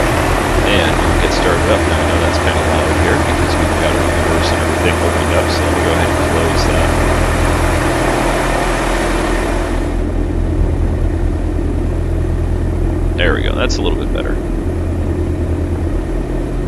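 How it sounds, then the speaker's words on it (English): Twin engines of a Diamond DA62 aircraft in the X-Plane 11 flight simulator, set in Hawaii, run as a steady loud drone, the level dropping partway through as the doors close; the engine hum continues beneath a brief soft chirp. "Alright, doors are closed and engines are started."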